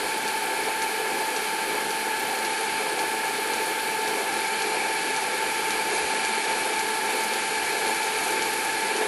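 A lathe cutting back an airgun bolt fitted with a pellet probe, held in a collet chuck: a loud, steady, even machining whir with a constant tonal whine and no pauses.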